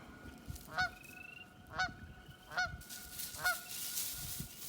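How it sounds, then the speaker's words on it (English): A goose honks in four loud, evenly spaced calls, close by at a beaver pond in spring, with quiet outdoor background between them. "The goose wants to check us out."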